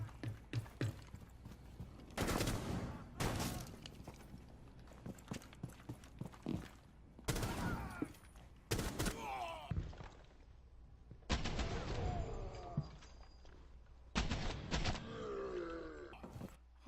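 Gunfire in Rainbow Six Siege: several loud, sharp shots spaced irregularly, some in quick pairs, with footsteps and mechanical game noise between them.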